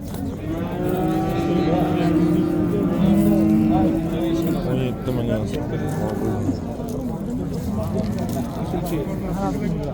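Cattle moo at a busy cow market, long drawn-out lowing calls close by, with a crowd babbling and voices talking underneath.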